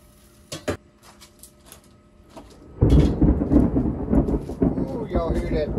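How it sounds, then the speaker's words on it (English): Thunder during outdoor cooking on a rocket stove oven: after a few faint clinks, a loud, deep rumble breaks in and rolls on steadily to the end. "Y'all hear that thundering, guys?"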